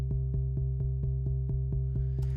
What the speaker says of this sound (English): Added in a sub bass 8th note